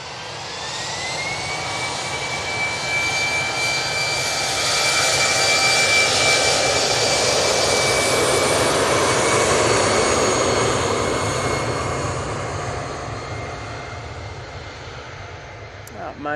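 A jet airliner departing Manchester Airport on a short flight to Belfast, its broad engine roar with a steady high whine building and swelling through the middle, then easing slightly as it climbs away.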